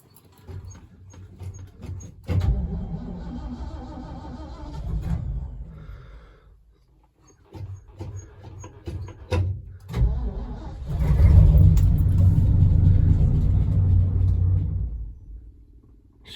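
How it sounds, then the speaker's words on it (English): A vintage car fitted with a two-speed Ruckstell rear axle cranks and catches, then runs with a loud low rumbling engine that drops out, restarts and swells again as it pulls away, with no talking. "So we'll fire it up"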